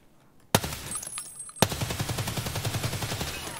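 Gunfire in Escape From Tarkov: a sharp shot, then after a second a second burst of rapid automatic fire that rattles on steadily to the end, fairly loud with no talk.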